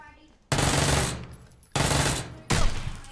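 Gunfire in a shooter video game, heard as three loud bursts of rapid automatic shots with short gaps between them, close and dominating the scene.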